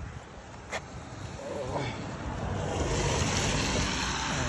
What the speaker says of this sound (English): Oh, there's a car.